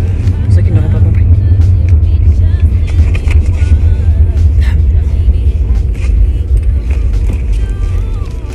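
Inside a moving car, a steady, loud low rumble of the engine and road fills the cabin, with a voice talking over it throughout.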